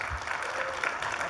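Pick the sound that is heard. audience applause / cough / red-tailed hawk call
audience applause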